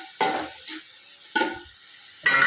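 Sliced onions sauté in a pan for chicken curry, with three distinct bursts of stirring and scraping, close and fairly loud, each followed by a quieter sizzle.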